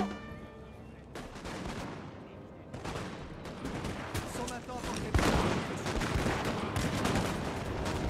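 Musket volleys crackle in overlapping bursts in a Napoleon: Total War battle, growing louder and denser toward the end, with faint voices in the background.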